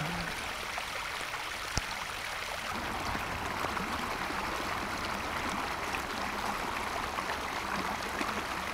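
Water from a burst main floods a residential street, a steady rushing, stream-like flow heard from close by, continuous with a single sharp knock early on.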